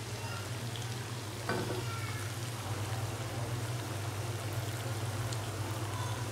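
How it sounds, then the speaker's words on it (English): Pasta and noodles fry in a pan as soy sauce goes in, giving a steady, close sizzle with a brief splashing burst early on, then continuous crackling hiss throughout. "Let's add some soya sauce."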